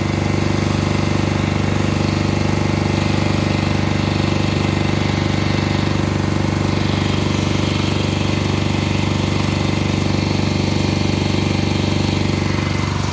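A 1968 Moto Guzzi V7 700 motorcycle with freshly sleeved cylinders runs close and loud, its steady, throbbing engine drone holding an even pulse without pause.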